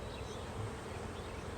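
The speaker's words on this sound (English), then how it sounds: "The bees that you see flying in and out are the worker bees." Honey bees swarm around an open beehive on a city farm, a dense, continuous buzz from many wings nearby, faint but steady with no voices.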